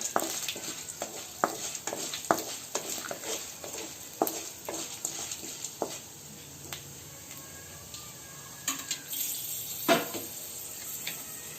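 Chana dal lentils stirred in a frying pan while making North Karnataka chitranna, a string of sharp spoon scrapes and clicks over a soft sizzle, close, gradually thinning out.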